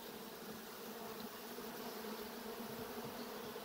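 Steady, soft buzzing of honeybees at an open hive in winter in Michigan, a continuous close drone with no talk.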